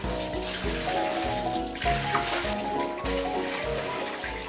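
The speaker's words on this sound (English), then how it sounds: "we need a large aquarium which we should fill with water." Water pours steadily into a large aquarium, a continuous splashing fill with bubbling and trickling textures throughout, fairly close and with no voices.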